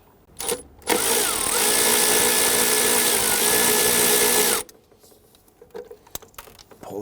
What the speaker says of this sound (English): We need to remove that bolt, and that bolt secures a hard line that goes to it.